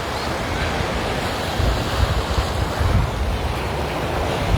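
Steady wind and rolling surf at Waikiki Beach in Hawaii, a continuous broadband roar with gusty rumbling swells and wind buffeting the microphone, no voices.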